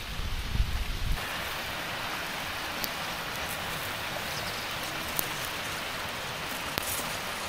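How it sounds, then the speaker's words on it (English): Steady rain falls outdoors at a campsite, a dense, even hiss that holds for the whole stretch, with a few brief louder patters near the start and scattered soft drop taps. "It's raining out."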